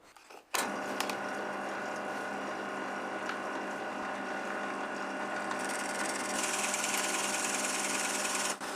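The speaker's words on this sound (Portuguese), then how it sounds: "Como só os grampos mantinham as tábuas unidas, furei devagar para evitar que se movessem." A drill working steadily and slowly through MDF boards held together only by clamps in a garage workshop, a continuous close whirring grind that starts abruptly and brightens toward the end, with no talk.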